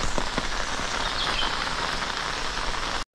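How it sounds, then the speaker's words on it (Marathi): Dense, steady monsoon rain pours down close by in the Konkan, a constant loud hiss with faint patters, ending abruptly. "दुपारचे वाजलेत 1 आणि पाऊस एकदम भरलाय"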